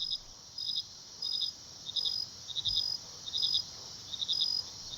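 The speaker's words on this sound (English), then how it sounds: "replacing them with the chirps of crickets and forest frogs" Crickets chirp at night in a forest in steady, rhythmic pulses that repeat about every second and continue evenly through the whole stretch, with no voices. No frog calls stand out.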